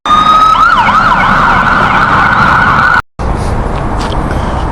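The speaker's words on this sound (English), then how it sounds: "Oh, here comes the siren." A loud wailing siren sweeps up and down continuously, then cuts off abruptly, leaving steady background noise.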